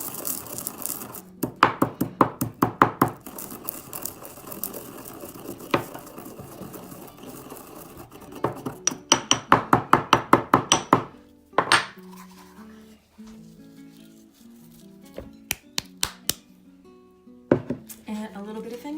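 Coriander seed being crushed by hand, a teaspoon's worth, giving bursts of sharp, rapid clicking and grinding strikes close by, with quieter pauses between rounds and light kitchen clatter.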